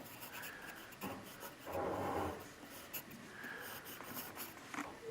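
A pencil scratches and rubs across paper in a drawing made with the opposite hand, with close, uneven strokes, some longer and louder rasping passages among softer short ones.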